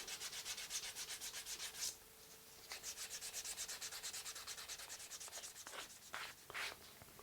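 Rhythmic rubbing strokes of 320 grit sandpaper along the edge of a handmade leather guitar strap, steady back-and-forth scratching with brief pauses, close and moderately loud with no talking.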